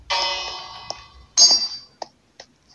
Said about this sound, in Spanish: Hace mucho ruido la campanita.